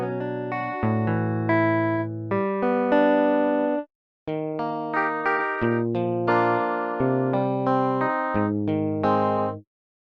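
Sampled guitar tones from a free software plugin, playing two sustained phrases of layered, bright plucked notes with a smooth synthetic sheen, loud and steady and separated by a brief silence, with no voices.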